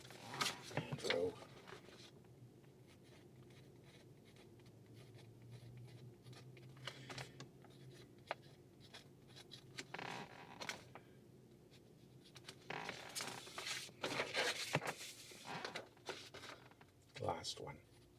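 A pencil scratches across paper flyers as numbers are filled in, making quiet, intermittent scribbling strokes in short bursts with pauses between them.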